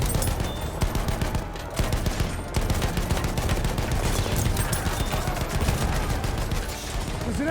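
Sustained Battlefield machine gun fire, dense rapid bursts rattling almost without pause over a loud battle din, close and heavy throughout.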